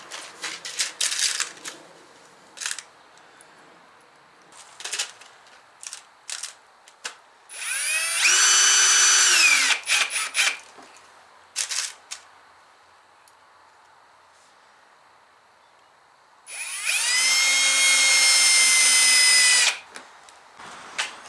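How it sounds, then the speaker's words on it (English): A handheld power drill drives studs into the rubber track of a Snowdog snow vehicle in two long bursts of whirring, each several seconds, close and loud. Light clicks and handling noises fall between them. "Just screw them in and we'll rotate the track and we'll screw some more in."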